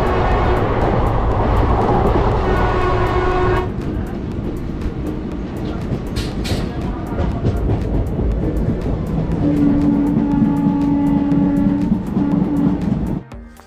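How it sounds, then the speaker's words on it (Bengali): A train pulls out of Howrah station, a continuous loud rumble and rattle of carriages. The sound shifts partway through as the noise drops and becomes more muffled, with a sustained tone later on. "হাওড়া স্টেশন থেকে আমাদের ট্রেন ডিপার্চার হলো।"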